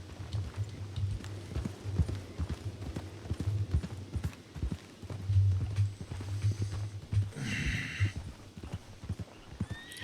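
Steady clip-clop of horse hooves walking at an even pace in the video game Red Dead Redemption 2, with a brief whinny toward the end.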